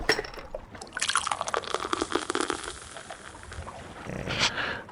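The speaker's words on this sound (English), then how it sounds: "Open it and pour it in my mouth." Beer pours into a character's mouth in a video game, a wet glugging and dripping splash that lasts several seconds, fairly loud and close, with a brief swell near the end.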